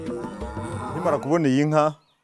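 A cow on a Rwandan cattle farm gives a single drawn-out moo, close and fairly loud, rising and wavering before cutting off into silence.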